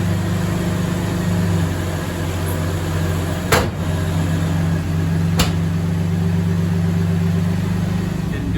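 A Camaro engine idling smoothly and steadily after more than ten years in storage, with only a fresh battery added, a loud even hum with a couple of brief clicks.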